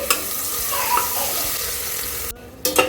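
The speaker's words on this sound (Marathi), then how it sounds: "आता यामध्ये बनवलेली ग्रेव्ही टाकून घ्यायची आहे." Gravy poured into hot oil spiced with turmeric and homemade black masala for a cauliflower and potato curry hisses in the pan, a continuous close sizzle with a stirring scrape and a brief break near the end.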